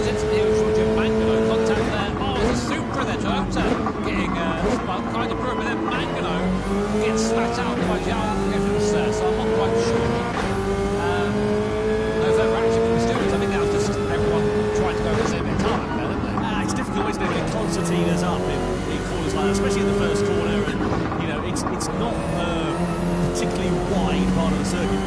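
Race cars in Gran Turismo 7 roar around a circuit, engines rising and falling through gear changes as cars pass one another, loud and continuous under a commentator's steady talk.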